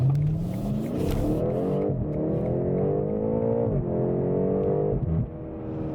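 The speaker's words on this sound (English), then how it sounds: "let's see if we can get a little acceleration here" A BMW M8 Competition, an all-wheel-drive performance coupe, accelerates hard, its engine and exhaust note climbing steadily in pitch through the gears with brief dips at shifts, loud and close with no talk.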